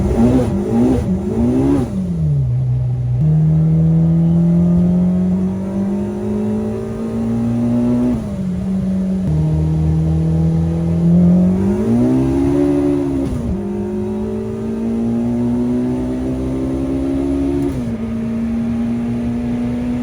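K-swapped Mini Cooper on nitrous pulling hard in third gear, the engine note climbing steadily through the revs with brief dips at shifts, loud and close with no talk.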